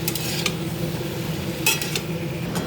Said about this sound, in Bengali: আলু পেঁয়াজ একটু আদা একটু রসুন বাটা দিয়ে এটাকে ভালো করে কষা দিচ্ছি